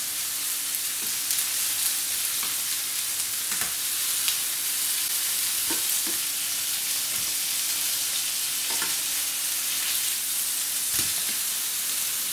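Steady, close sizzling of burger patties frying in a hot pan, with a few soft clinks and scrapes of a utensil now and then; no talking.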